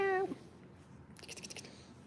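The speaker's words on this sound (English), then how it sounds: "He's purring." A pet cat gives a short rising meow at the start, followed by quieter soft, rhythmic purring-like pulses close by, with no talk.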